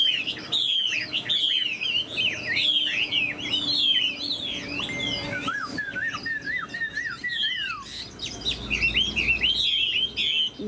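A Chinese hwamei songbird sings loud and close, pouring out rapid, varied whistled phrases and trills almost nonstop, with no talk over it.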